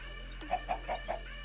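A Minecraft chicken clucking, four short quiet clucks in a row over a low steady background hum.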